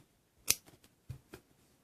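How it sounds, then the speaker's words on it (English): Scissors snip red yarn during amigurumi crochet work, giving a few quiet, crisp clicks and cuts, close and isolated in a silent room. "You can now cut the red yarn."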